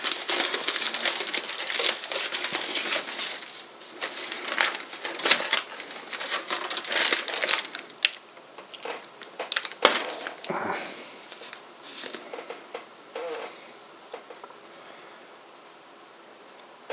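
Close, crisp crinkling and rustling as a 70% cocoa chocolate bar is unwrapped, with bursts of crackling foil and paper that ease off toward the end.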